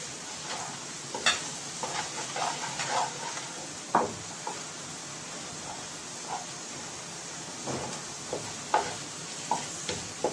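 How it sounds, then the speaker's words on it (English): Chicken frying in a pan with eggs and spices, a low steady sizzle with scattered stirring scrapes and clinks of a utensil against the pan, no voices. "now I put the chicken into the pan and fry it with the eggs and spices"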